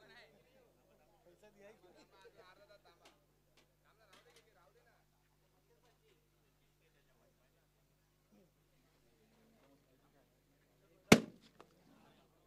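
Firecrackers set off at a prize ceremony for the George XI Trophy 2023: one sharp, loud bang bursts out near the end after a long stretch of faint murmuring voices and near silence.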